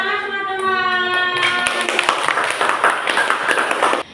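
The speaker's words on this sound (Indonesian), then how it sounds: "Tepuk tangan teman-teman" Students in a classroom clap for a classmate, a dense burst of many hands clapping close by that follows a voice and fills the last few seconds before cutting off.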